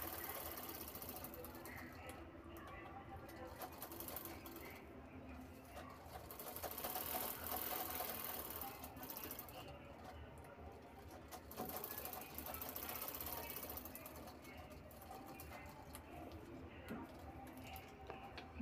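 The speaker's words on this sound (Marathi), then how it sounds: "इथे दोन्ही साईड शिवून घ्यायचे आहेत।" A sewing machine stitches the sides of a cloth shopping bag with a steady, fast rhythmic clatter and faint motor hum that runs continuously, rising and easing slightly in pace.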